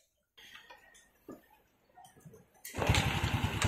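A Honda Wave 100 Alpha CX motorcycle is kick-started; after a few faint clicks and mechanical taps, the engine catches and runs loud and close, settling into a steady, rough idle.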